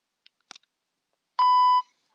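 A couple of faint clicks, then a single clear electronic beep from a talking label reader, about half a second long, in an otherwise quiet setting.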